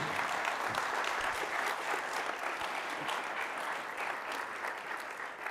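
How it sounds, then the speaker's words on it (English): Audience applause for Michael Saylor and Adam Back at the close of a Bitcoin interview session, a steady, dense round of clapping that slowly tapers off. "please give a last round of applause for Michael Saylor and Adam Back"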